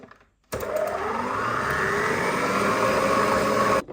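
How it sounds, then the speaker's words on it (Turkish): An electric hand mixer whips butter in a bowl until it turns smooth. Its motor gives a steady, loud whir that starts abruptly, holds constant for about three seconds, then cuts off. "tereyağını 5 dakika falan pürüzsüz bir kıvama gelene kadar çırpmamız gerekiyor"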